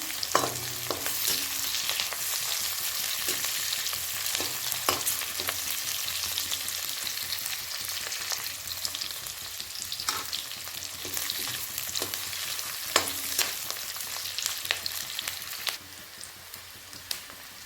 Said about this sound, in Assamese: এতিয়া পিঁয়াজখিনি অকণমান ৰঙচুৱা কৰি ভাজি ল'ম